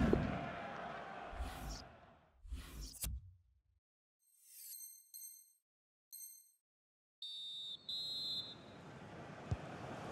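During a televised football match, the referee's half-time whistle shrills in several short blasts, then one longer blast, over stadium crowd noise and a commentator's voice.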